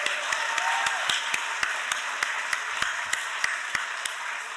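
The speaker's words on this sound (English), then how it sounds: "Give yourself a massive round of applause," A group gathered at a hotel event applauds with a brisk, dense wash of clapping. Sharp, evenly spaced clicks tick through it like a steady beat.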